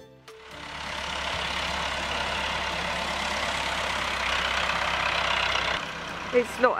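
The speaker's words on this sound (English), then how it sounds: "It's not our tractor, it belongs to the stables." A tractor engine idles nearby with a steady, low mechanical drone that holds for several seconds before cutting off, followed by a few brief knocks.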